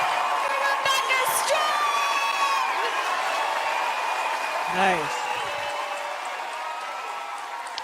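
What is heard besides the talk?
audience cheering and applauding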